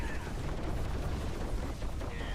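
Diablo IV gameplay fills with a constant wash of overlapping explosions and mechanical crunches, loud and close, booming without a break.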